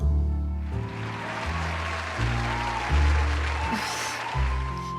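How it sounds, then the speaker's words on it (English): Pub patrons cheer and clap in a crowd scene from the horror visual novel The Letter, a steady wash of applause over a loud, rhythmic low music bed. "cheers and applause rise among the pub's patrons"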